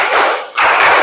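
Classroom of students clapping together in a counting rhythm game, two quick bursts of hand claps separated by a brief pause, close and loud.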